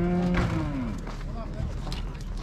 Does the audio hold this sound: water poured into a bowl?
no